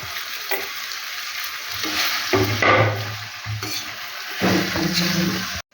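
Boiled potatoes drop into a hot pan of onions and capsicum for pav bhaji, setting off a loud sizzle with scraping spatula strokes and pan knocks throughout before an abrupt stop.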